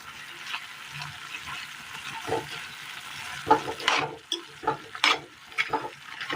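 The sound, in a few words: stirring fried masala into Kerala curry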